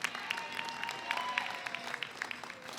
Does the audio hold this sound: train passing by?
no